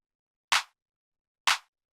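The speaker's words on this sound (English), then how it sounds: "After that, we have this clap, which sounds like this." Two isolated hits of a fat clap sample from a minimal house beat, each a short bright burst with a quick tail, about a second apart, crisp and dry against total silence.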